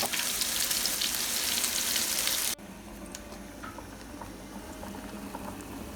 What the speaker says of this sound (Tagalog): kumulo na rin yung brewed coffee natin